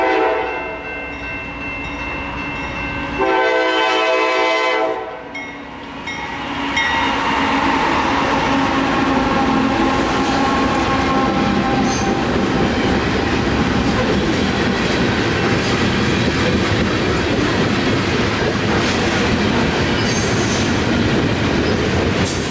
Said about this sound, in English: to record the day's Norfolk Southern Train 11Z as it makes its way south to Harrisburg